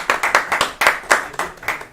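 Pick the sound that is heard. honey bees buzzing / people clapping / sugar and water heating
people clapping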